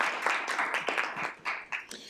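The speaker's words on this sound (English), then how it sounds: "Give him a round of applause." Audience applause in a legislative committee session, a fairly quiet, steady patter of clapping from a modest crowd lasting a couple of seconds.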